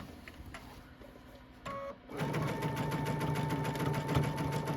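A sewing machine zigzag-stitches quilt binding, starting after a brief pause into a steady, rapid mechanical chatter that runs evenly at moderate volume.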